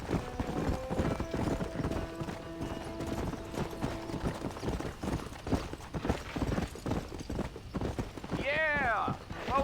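Horse hooves clip-clop in a steady rhythm in the video game Red Dead Redemption, close and prominent, with voices talking over the hoofbeats and a brief whinny near the end.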